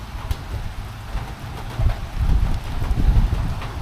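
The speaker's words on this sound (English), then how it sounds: "it's raining and it's very windy" Loud wind buffeting a microphone with a rumbling roar, under a steady hiss of falling rain in Innisfail, Australia, with no voices.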